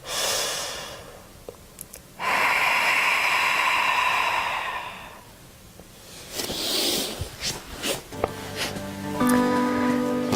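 Deep belly breathing during yoga: a long, airy inhale followed by a drawn-out exhale, then several shorter, uneven breaths close to the microphone.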